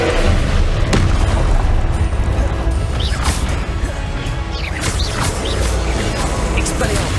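A Confringo fire-blast spell in Hogwarts Legacy detonates in loud, crashing booms and whooshing impacts that continue throughout, amid a busy, dense spell-battle din with a voice underneath.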